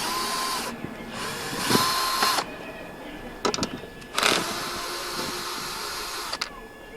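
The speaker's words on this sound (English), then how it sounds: "I usually use a power tool because it's a lot quicker rather than using a 10mm spanner." A power tool spins off the 10mm airbox bolts on a 1989 Mercedes 230E, giving several short whirring bursts separated by pauses, fairly close and moderately loud with no talking.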